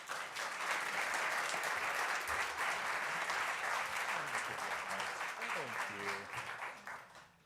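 Steady, loud applause from a seated audience welcoming Paul Zak to the stage, a continuous wash of clapping that fades slightly near the end.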